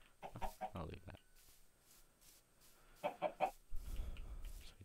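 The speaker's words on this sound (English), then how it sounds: "Chickens here." Chickens in the video game Minecraft cluck in short bursts of quick clucks near the start and again after a pause, with faint background noise between.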